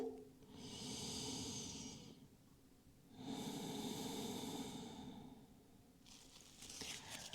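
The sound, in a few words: deep breathing during a yoga exercise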